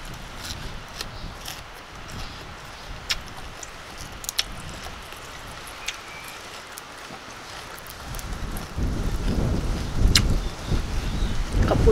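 Steady outdoor wind blowing at a sunny outdoor spot, a continuous rushing roar with gusty buffeting against the microphone that swells louder toward the end, with no talking.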